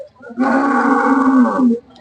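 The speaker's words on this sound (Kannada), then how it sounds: "ಫ್ರೆಂಡ್ಸ್ ಇನ್ನೊಂದು ಹಸು ಇದೆ ನೋಡಿ" A cow at an open cattle market in Nulvi, Karnataka, gives one loud, close, sustained moo of about a second and a half, heard alone.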